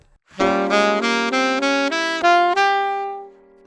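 A bright sustained instrument plays a short stepwise harmonic minor phrase of about eight connected notes over a held ii chord in a minor ii-V-i, ending on a longer note.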